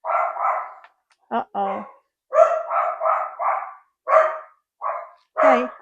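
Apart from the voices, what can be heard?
dogs barking at a delivery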